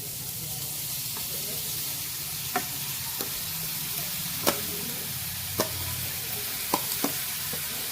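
Grated beetroot fries in ghee with a soft, steady sizzle while a utensil stirs, sharp scraping clicks and taps against the pan recurring every second or so, close and fairly loud.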